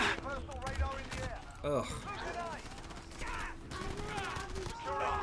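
Video game gunfire crackles in rapid, overlapping bursts amid shifting game sounds, with a player groaning briefly over the action.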